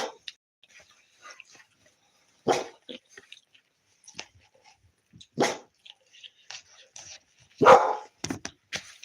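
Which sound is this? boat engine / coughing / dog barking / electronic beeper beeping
dog barking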